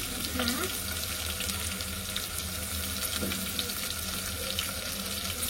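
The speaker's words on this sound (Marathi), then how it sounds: "कांदा टाकला. कांदा थोडा परतून घेऊ." Onions sauté in a pan for a prawn biryani, a continuous close hiss and sizzle with an even, unbroken texture throughout.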